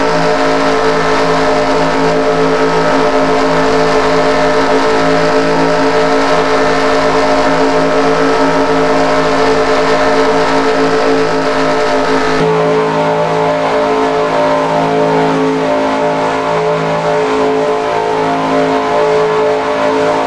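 Pack of stock cars at Daytona in a racing video game, a dense, loud, continuous engine drone with layered revving tones, held steady for the whole stretch with no voices.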